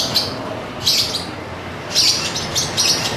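Hand-fed African lovebird chicks chirp at feeding time in four high, bright bursts of rapid begging calls, close and loud.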